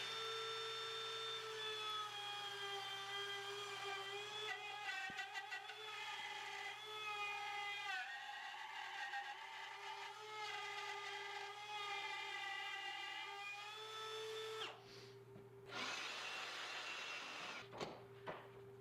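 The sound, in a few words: router cutting a slot along a wood template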